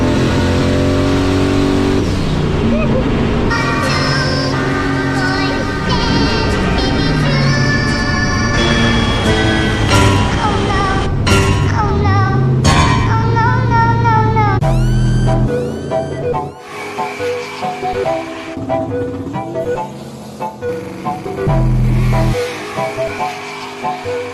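A turbocharged LS car engine revs loud and close, repeatedly climbing in pitch and holding at high RPM, then dropping back to a rough idle and revving again.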